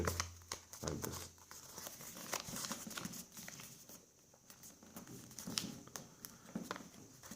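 Sheets of paper crinkle and crease while being folded into a simple paper Twitter bird craft, with close rustling and soft scraping that continues steadily throughout.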